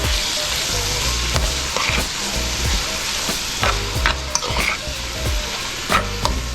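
Tomato goes into a hot pan and is stirred, a loud, constant sizzle broken by repeated scraping and stirring strokes.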